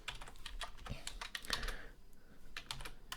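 Quick bursts of computer keyboard keystrokes as a line of code is typed, crisp and close, a dense run of clicks with brief pauses and no voices.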